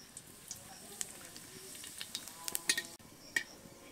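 Whole cumin seeds, bay leaves, dried red chilies, cardamom, cloves and cinnamon crackle softly in hot oil for chicken khichuri, with a faint sizzle and scattered spoon clicks and stirring taps as someone speaks nearby.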